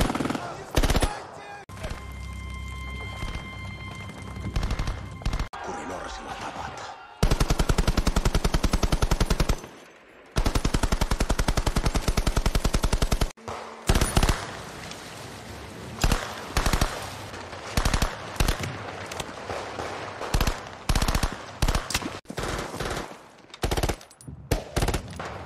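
Real firearms fire in a Finnish war film: loud sustained machine gun bursts and sharp single shots in rapid volleys, with talking heard between some stretches of gunfire.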